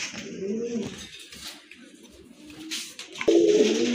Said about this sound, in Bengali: এটা হচ্ছে আপনার সিলভার দাম কবুতর, বিগ সাইজের কবুতর